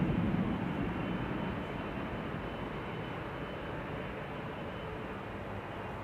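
Boeing 747 taxiing at Schiphol airport, a faint, distant, steady jet rumble and broadband roar with no distinct events, fading slightly over the seconds.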